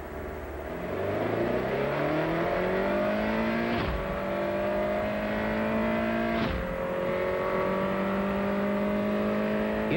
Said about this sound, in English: 190 horsepower Prelude VTEC. It's very quick, no matter how you look at it.